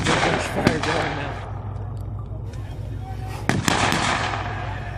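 Gunfire at a USMC historical tank farm open house demonstration, with several sharp reports and bursts over a constant low rumble. Crowd noise and voices are audible underneath.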